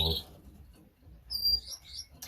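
Canaries in a backyard bird shed give short, bright chirps and tweets in scattered bursts, close by and fairly faint, with a low murmur of background noise between calls.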